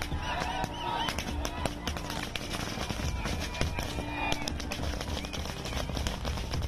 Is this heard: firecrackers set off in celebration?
yes